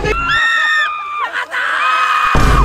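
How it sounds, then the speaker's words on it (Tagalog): Loud, sustained shouting and screaming from a person or two, high and strained, with a brief break in the middle before resuming. "Ang ingay mo sumigaw!"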